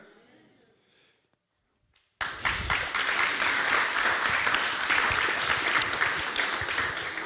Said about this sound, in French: Il y a quelqu'un qui a applaudi pour me laisser boire.